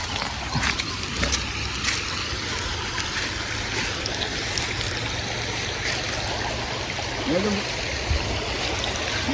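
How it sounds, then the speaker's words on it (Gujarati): Water from the flooded Sabarmati River rushes past in a steady, dense wash, close and continuous, with a few faint splashes and voices underneath. "જો મિત્રો સાબરમતી પાણી જાય છે"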